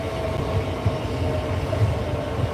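An East Midlands Railway passenger train passes at Peterborough station with a loud, continuous low rumble and rolling wheel noise, close by and without talk.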